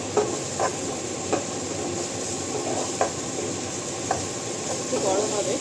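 Lote fish and radish fry in a pan with a continuous sizzle, and a utensil stirs the pan with sharp taps and scrapes every second or so.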